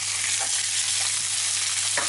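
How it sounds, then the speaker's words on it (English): Garlic and onion sizzling in a pan over medium heat, a loud, dense, continuous hiss close up, with a few soft stirring scrapes and no voices. "But I'm going to add in the garlic and the onion now."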